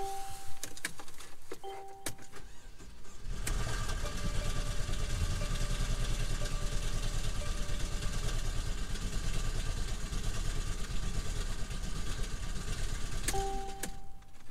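A damaged car engine idles steadily and fairly quietly after a couple of short mechanical sounds at the start, running with a rough, uneven hum.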